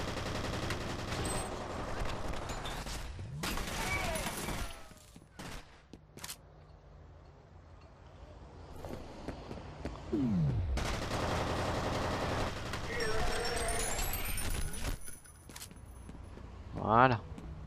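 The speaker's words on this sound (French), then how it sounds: "il y en a un qui me tire encore dessus" Gunfire from enemies in the first-person shooter F.E.A.R., loud bursts of automatic shots in two long volleys separated by a quieter stretch, with someone talking over the action.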